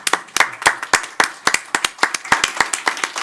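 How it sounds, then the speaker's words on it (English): An audience applauds to welcome a new police chief at a city council meeting in Beloit, a brief round of a few people clapping, close and distinct, with sharp irregular claps and no talk over it. "Just want to clap for her."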